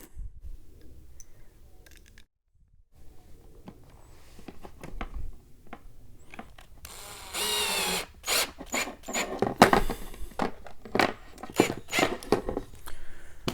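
Screws driven into thin plastic toy kitchen parts with a power driver: short whirring bursts and repeated buzzing pulses, close and loud, broken by clicks and handling noise.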